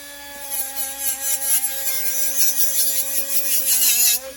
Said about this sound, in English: I'm going to show you how to use the brushless soft bright brush to polish it